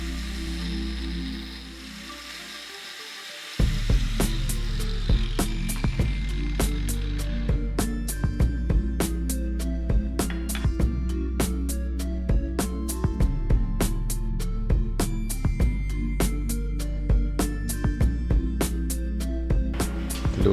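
A steel acorn workpiece is cut off on a machine, beginning with a low hum that shifts into a steady loud motor drone packed with rapid rhythmic ticking and metallic scraping that runs without pause.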